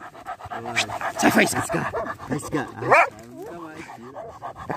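A frightened small female dog pants rapidly and audibly up close, the quick breaths mixing with whimpers while people talk and urge it on over the top.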